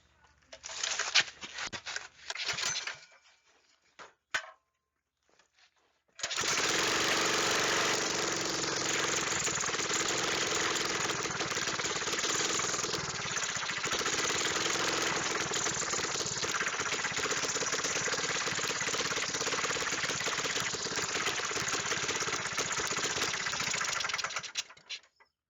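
A mini bike's small engine sputters and coughs through a few brief start attempts, then catches and runs loud and steady at close range, a harsh continuous rattling drone holding until it cuts off near the end.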